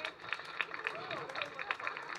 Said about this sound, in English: This one needs a double clap.